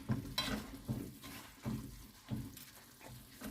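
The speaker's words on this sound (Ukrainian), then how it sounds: "можна просто взяти отаку картоплю м'ялку, якщо ви хочете, щоб було трішечки дрібніше" Cooked zucchini being mashed with a potato masher in a pot for zucchini spread, a series of soft, wet squelching presses at an uneven rhythm, close and fairly quiet.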